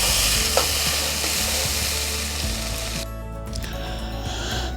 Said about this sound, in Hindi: अच्छी तरह मिक्स करके इसको भून लेंगे